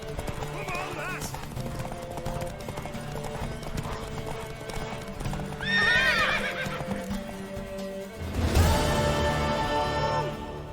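Hooves clip-clop in a rhythmic gallop while horses neigh and whinny loudly during a horse race in The Witcher 3: Wild Hunt, with voices speaking over the action.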